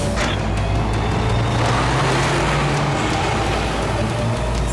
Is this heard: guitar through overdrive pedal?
no